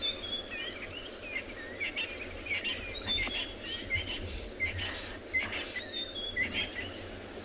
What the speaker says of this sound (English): I can hear the frogs are waking up. The birds are doing their last chorus before roosting for the night.